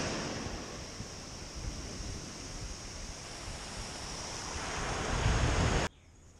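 Small ankle-high ocean waves wash and break steadily on a beach under wind noise, swelling toward the end before cutting off, with no one talking.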